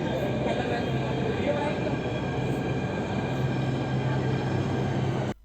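A Jaipur Metro train rumbles along steadily from inside the carriage, with a constant low hum and faint mechanical whine throughout, ending abruptly.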